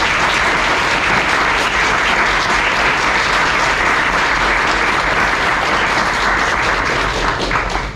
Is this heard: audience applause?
yes